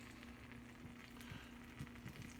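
Faint sizzling of a grilled cheese sandwich frying in a pan, a soft steady crackle with occasional small pops and no talking.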